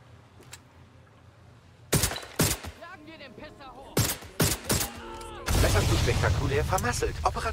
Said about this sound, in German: Warum explodiert jetzt der Van?